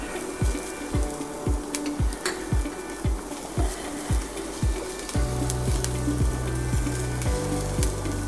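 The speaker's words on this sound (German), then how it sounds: "Und jetzt gebe ich den Knoblauch dazu, nur so lange, bis er anfängt zu duften" Garlic sizzling in a hot pan, a steady crackling fry under regular scraping stir strokes about twice a second, the sizzle thickening and growing louder in the latter half.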